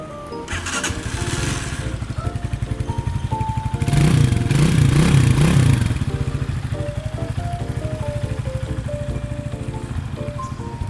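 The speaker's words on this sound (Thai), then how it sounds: "เครื่องยนต์ดีปกตินะครับเดินเบานิ่งๆเลย" A 2018 GPX Legend 200 motorcycle in cafe-racer style, about 16,000 km on it, idles with a steady close thumping beat, swelling briefly into a louder rev with a wavering whine midway before settling back to an even idle.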